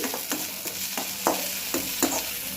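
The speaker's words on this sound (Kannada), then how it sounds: "ಈಗ ಹಸಿ ಶುಂಠಿ ಪೇಸ್ಟ್ ಹಾಕ್ಕೊಳ್ತಾ ಇದ್ದೀವಿ." Ginger garlic paste fries in a pan with a steady sizzle, broken by regular scraping strokes of a spoon stirring about every half second, close and fairly quiet with no talking.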